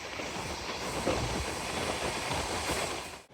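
The Ruposhi Bangla train runs through Nagarkanda railway station on its Dhaka to Benapole route, heard from aboard as a loud continuous rumble and rattle of the carriages with rhythmic wheel clatter, ending abruptly.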